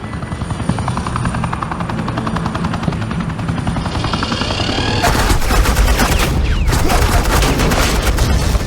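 Gunfire in Batman: The Enemy Within, rapid suppressing bursts over the loud constant thrum of a helicopter, with the fire growing denser and louder partway through.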